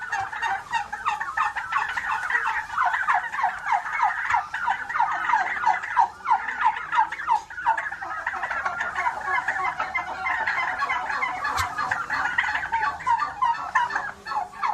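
A flock of turkeys on a turkey farm gobbles continuously, overlapping warbling calls forming a dense, steady chorus at moderate distance, with no voices over it.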